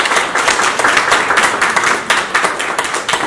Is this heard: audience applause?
yes